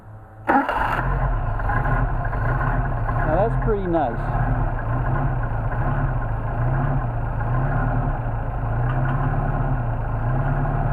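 A Mercedes-Benz 190SL engine cranks briefly from cold, catches, and settles into a loud, steady idle with a rhythmic chug, while someone speaks over it.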